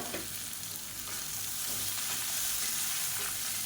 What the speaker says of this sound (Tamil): இப்போ சொரக்காய் வேகிற அளவுக்கு நல்லா வதக்கணும்